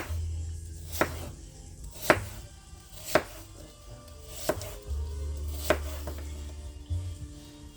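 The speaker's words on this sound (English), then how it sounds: "I'm going to cut them in slices." A knife slices apples for an apple pie in quiet, evenly spaced cuts, about six crisp taps on a board roughly a second apart, over a low background hum.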